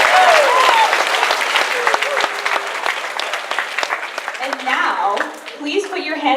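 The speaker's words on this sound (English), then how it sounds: "So give a round of applause to yourselves too." Loud, full applause fills the hall at a 2017 student science symposium awards ceremony, thinning slightly toward the end while a few voices rise over it.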